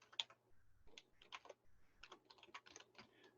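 Code being typed on a computer keyboard: quiet, close clusters of key clicks in an uneven rhythm with brief pauses between bursts.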